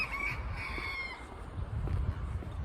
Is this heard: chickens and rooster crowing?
yes